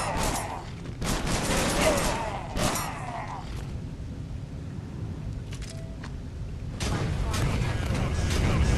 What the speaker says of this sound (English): These guys are using shotguns, I think.